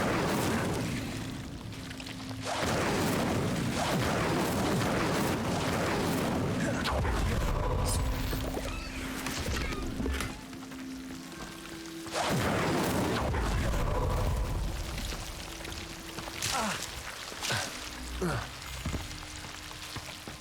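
Roaring, crackling blasts of the Incendio fire spell in Hogwarts Legacy come in two long loud waves, with sizzling flame noise and low rumbles throughout and brief tonal game effects between them.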